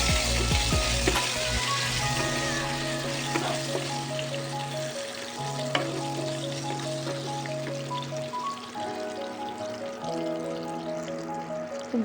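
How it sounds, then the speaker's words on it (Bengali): Jujube (kul) pickle frying in a pan with jaggery to follow, a spatula pressing and smashing the fruit; steady close sizzling with scraping knocks, under a sustained tonal hum throughout. "খুব ভালোভাবে ভাজতে হবে"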